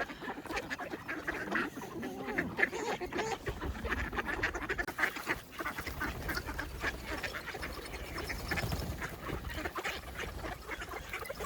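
Ducks quack repeatedly in a noisy, overlapping chorus close by on a river in winter, squabbling over food, with splashing and scattered bird calls around them.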